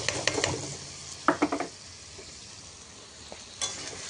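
Spices tipped into onions already frying in hot oil for a bottle gourd dish, giving steady close sizzling with a burst of sharper crackle and scraping around the middle and a brief flare near the end.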